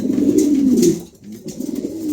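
Low, throaty cooing from a black male pigeon close by, rolling in a few soft bursts with a brief pause in the middle.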